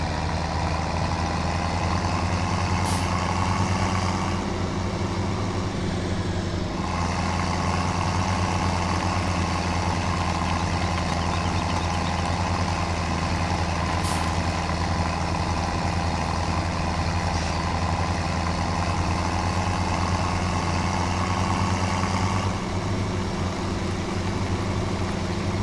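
Tractor engine in Farming Simulator 17, a steady droning hum with a low rumbling tone that runs unbroken for about twenty-five seconds at moderate level, with no voices over it.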